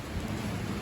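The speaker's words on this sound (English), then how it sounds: "I'm glad to have the rain" Steady rain and low thunder rumble during a rainy spell while mowing, a brief dense wash of rainfall close by with no voices.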